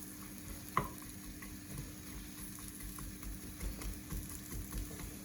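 Steady, quiet sizzling and crackle of food frying in a pan, with a sharp clack near the start and faint clinks throughout, no voices.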